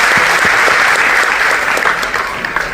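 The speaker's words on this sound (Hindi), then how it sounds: "एक बार तालियां इनके लिए" Crowd at a political speech event applauding for a veteran five-time election-winning politician: loud, dense, sustained clapping filling the space, steady throughout with slight thinning near the end.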